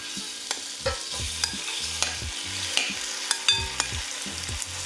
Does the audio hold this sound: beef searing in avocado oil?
yes